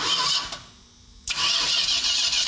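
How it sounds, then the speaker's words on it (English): A 1971 Dodge Super Bee with a 383 engine and 4-speed, a one-owner barn find, cranks over: a loud starter whir, a brief drop, then cranking resumes, close by and without talk. "let's just see if it cranks over like it's supposed to"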